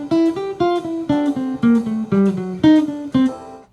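A jazz guitar phrase: a quick run of clean, plucked single notes with clear attacks and short sustains, moving stepwise in a lively rhythm, played solo.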